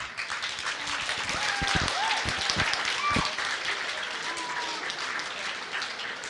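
A festival crowd at a kimono fashion show at Japan Festival Berlin 2013 claps for the designer, with steady applause mixed with a few cheers and crowd noise throughout.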